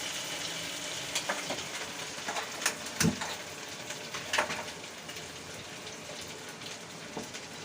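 Pieces of chilli idli frying in hot oil in a pan give a steady, fairly quiet sizzle close by, dotted with sharp crackles and pops at irregular moments.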